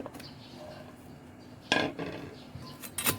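Pestle pounding chili, garlic, shallot and salt into a paste in a mortar, a few sharp knocks with quieter scraping in between, close by.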